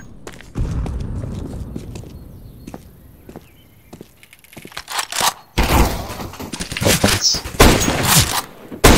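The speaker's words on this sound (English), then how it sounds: "Throwing a grenade!" Counter-Strike: Global Offensive match on the Inferno map, where a grenade is thrown and bursts in a heavy blast, followed by a dense run of gunfire, footsteps and sharp thuds building louder toward the end.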